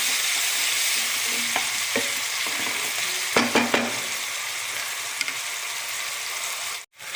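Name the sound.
sautéing ginger garlic in a pan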